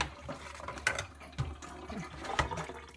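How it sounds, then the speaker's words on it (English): Cold tap water runs and gurgles through milking equipment, a close, steady splashing flow with irregular sloshing surges. "I'm just running cold water through here first to get all the extra milk out"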